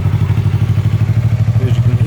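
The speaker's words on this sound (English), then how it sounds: "just start the bike up so you guys can hear it." A Yamaha YZF R3 with an Akrapovic carbon slip-on exhaust, baffle removed, idles loud and close with a steady, rapid, throbbing pulse.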